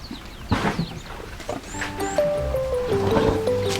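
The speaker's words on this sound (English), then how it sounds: "Bathing is a favorite pastime that fulfills an important function for the elephants." Elephants bathing in an African wildlife setting, with several loud wet splashes and squishing water sounds close by, backed by soft tonal music.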